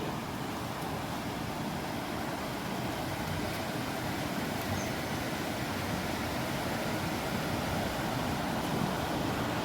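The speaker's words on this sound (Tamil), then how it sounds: "இங்கே ஓடுற தண்ணி ஓடிக்கொண்டிருக்கு" Water runs steadily along the main irrigation channel fed from Muthaiyan Kattu tank, a continuous broadband rushing wash with no breaks, fairly faint and alone.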